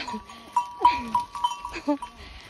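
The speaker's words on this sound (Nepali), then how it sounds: "बाख्राहरू आयो, मेरो दिदीको बाख्राहरू आयो।" Several goats bleat in short, nasal calls, one after another, while people talk nearby.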